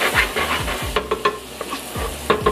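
Diced onions and thyme frying in a pot for Haitian bouillon, a close sizzle with low thumps and scraping stirs of a spoon, several quick clatters of the utensil against the pot.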